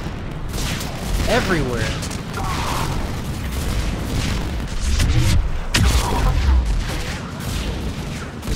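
Heavy mortar fire in the Mass Effect 3 Krogan DMZ battle: repeated booming blasts and rumbling explosions overlap continuously, loud and close, with a voice talking briefly over the barrage.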